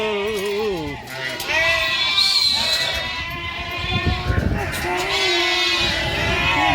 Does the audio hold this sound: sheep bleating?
yes